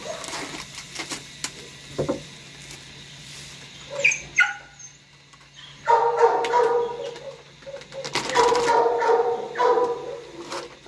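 A dog barks in short bursts, moderately quiet and somewhat distant, in a quiet indoor space, with a few faint bird-like chirps between the barks.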